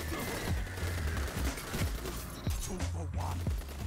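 Rapid game gunfire from a Breakneck weapon cracks in a quick string of sharp shots over steady background noise, spaced irregularly across a few seconds, with a distant soundtrack droning underneath.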